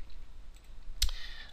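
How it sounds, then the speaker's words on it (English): Computer mouse clicking while cycling through colour options in animation software, a single sharp close click with a faint follow-up, otherwise near-silent room. "So I'm just clicking through colours."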